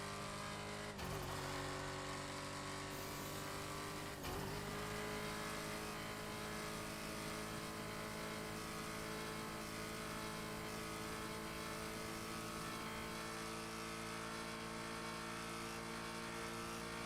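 A racing car's engine in a video game drones and revs steadily at a constant loud pitch, with two brief shifts early on and no voices.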